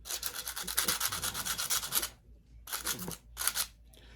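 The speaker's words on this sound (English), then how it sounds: "You want to use 400 grit. I'm just going to sand that away." Hand sanding with 400 grit sandpaper to remove burrs on a screw repair, quick rhythmic back-and-forth scratchy strokes for two seconds, a short pause, then two more bursts, close and without talk.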